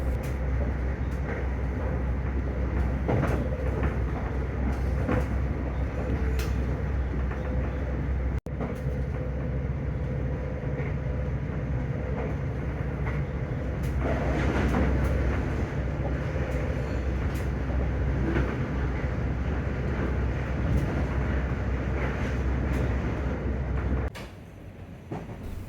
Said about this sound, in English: we were pulling in to the suburbs of Breda